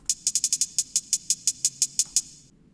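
A quick run of about fourteen crisp, bright hi-hat hits, evenly spaced and tight, stopping abruptly with nothing else underneath.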